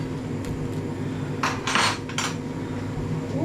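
A plate and cutlery clatter in a home kitchen while a roast dinner is plated, a brief cluster of clinks and scrapes over a steady background hum.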